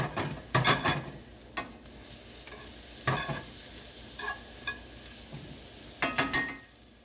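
A tablespoon of oil and a tablespoon of butter sizzle in a pan over medium-low heat, a steady close crackle with bursts of stirring and sharp pops, no talk over it.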